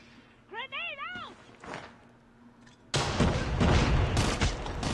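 Gunfire in the mobile shooter Call of Duty Mobile erupts loudly partway through as a dense, sustained burst of shots and booms, after someone talks over quieter game sounds.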